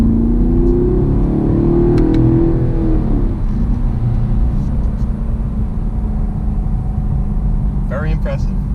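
A 2018 Chevy Camaro SS V8 engine pulls hard after a downshift on a hot day, a loud close roar rising in pitch for about three seconds, then easing into a steady rumbling cruise, with road and wind noise throughout.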